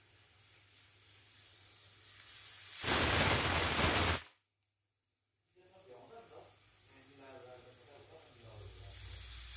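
A pressure cooker with chicken inside lets out a loud, steady jet of hissing steam for over a second, cuts off abruptly to silence, then a fainter bubbling hiss resumes and slowly builds.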